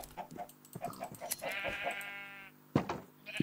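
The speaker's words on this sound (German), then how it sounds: "Mehr Wolle, mehr Schafe." A Minecraft sheep bleats once, a wavering mid-pitched call, amid soft clicks and game noises, close and clear with no talking over it.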